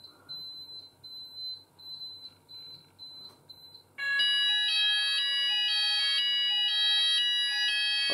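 An Apollo XPander fire alarm panel gives a quiet repeating pre-alarm beep tone during a system test, then a loud multi-tone electronic alarm pattern suddenly starts and cycles steadily to the end.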